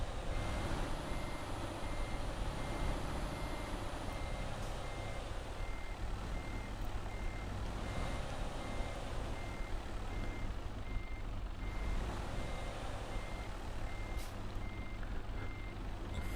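Truck in the Euro Truck Simulator 2 video game heard from outside the cab, a steady low engine rumble with a repeating reversing beep running through it and brief air-brake hisses.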